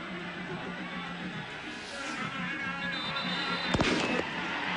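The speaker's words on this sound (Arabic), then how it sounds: "ألعاب نارية موجودة" Fireworks go off in the stands of the Sohar sports complex during a Saham versus Sohar football match in Oman, with one sharp bang late on over a steady roar of the crowd.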